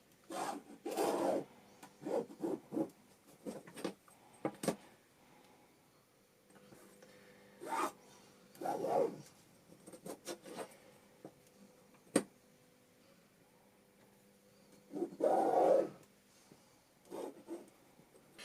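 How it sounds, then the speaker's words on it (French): A pencil scrapes across paper in short, irregular rasping strokes as lines are drawn joining dotted marks, each stroke close and quiet with pauses between, some strokes longer and heavier than others. "là, je vais relier tous mes pointillés"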